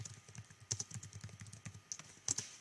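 Quick, uneven keystrokes tap on a computer keyboard while typing a journal entry, close and fairly quiet, with small bursts and brief pauses between keys and no talking.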